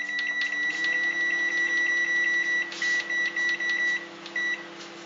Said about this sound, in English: There we've got them in the microwave.